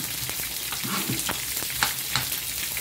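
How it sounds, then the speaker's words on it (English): Onions, garlic and ginger fry in oil for Sri Lankan devilled prawns, a continuous close sizzle with a few soft tossing clatters and no voices. "we're gonna add some onions, garlic and ginger into the pan here. We're just going to give them a little bit of a toss."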